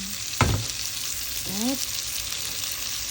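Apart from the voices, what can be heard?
sautéing food in a pan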